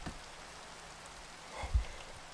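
Steady rain hiss in a horse-riding video game, a soft even wash of drops with a brief low thump near the end, no voices.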